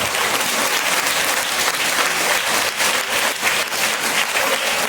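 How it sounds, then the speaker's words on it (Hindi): A church congregation claps hands in praise, dense sustained applause from many people filling the room at a loud, even level, with a faint murmur of voices beneath. "जितनी हाथों में ताकत हो ताली बजा के उसकी तारीफ करो।"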